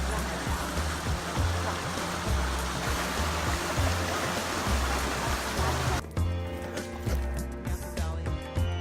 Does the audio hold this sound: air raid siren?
no